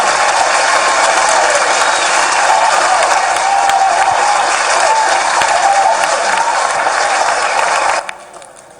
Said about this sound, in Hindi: आइए हम सब भी सहभागी बनेंगे माननीय मुख्यमंत्री जी के इस कार्य में अपनी जोरदार तालियों के द्वारा